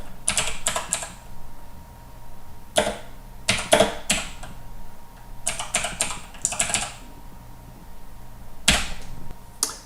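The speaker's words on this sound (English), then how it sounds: "when I type in my SQL statement, I can run my query now" Computer keyboard keys clatter in quick bursts while an SQL statement is typed, several rapid clusters of close, crisp clicks separated by short pauses, with no voices.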